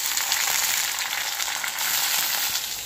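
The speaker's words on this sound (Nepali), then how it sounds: "यो भयो प्याज अनि टमाटर पनि लगाइदि हाल्ने छु म" Onion and tomato hitting hot oil with cumin in a pan, a loud, continuous close sizzle with a dense hiss and faint stirring, no voices.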